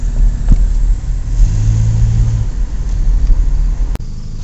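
A Volvo 740 with a four-cylinder engine drives along with a steady, loud low engine hum, road rumble and a brief rise in revs, plus a sharp click near the end.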